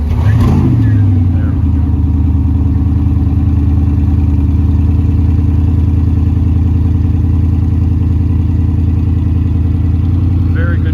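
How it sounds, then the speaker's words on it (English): A Koenigsegg Regera hypercar engine cold-starts with a sharp burst, then settles into a loud, steady, deep idle rumble that carries on without a break. "We're about to get a cold start of the Regera."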